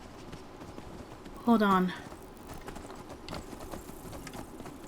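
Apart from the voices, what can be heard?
horse hooves clip-clopping in Skyrim video game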